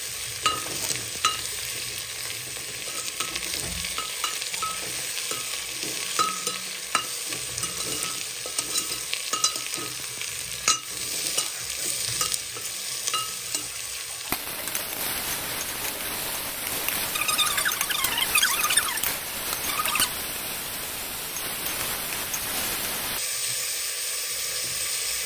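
Mutton sizzling and frying in a pan for a Nepali mutton jhol, with onion added, a continuous crackling hiss broken by stirring scrapes, close and fairly quiet with no talk.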